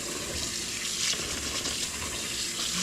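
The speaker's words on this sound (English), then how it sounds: "You just have to wash your rice together, and the water runs out from the side." Rice being washed in water, with a continuous close splashing and running-water wash as the water drains out the side of the pot, steady and moderately quiet with no talk.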